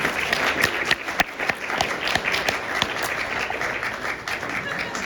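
Audience at a convention panel applauding, a dense, sustained wash of many hands clapping with a few sharper claps standing out, fairly close and steady throughout.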